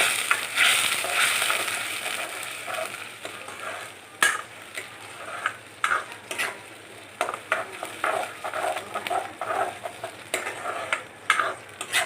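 Ground spice paste and onions fry for rajma masala, stirred in a pan with steady sizzling and repeated sharp scrapes and taps of the spoon, close up and without talk.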